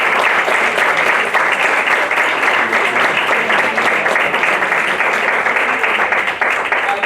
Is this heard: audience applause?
yes